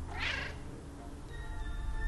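A single short cartoonish cat meow from town cats in the video game Cat Quest 2, quiet and clear, followed by faint sustained tonal game music.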